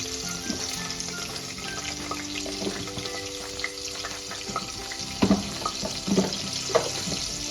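Mustard seeds spluttering in hot oil for a radish bhaji, a steady frying crackle with scattered sharp pops that grow denser toward the end, close and moderately loud, no voices.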